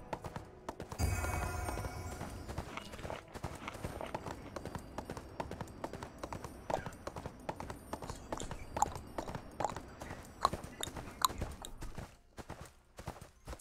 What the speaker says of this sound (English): It's my horse noises.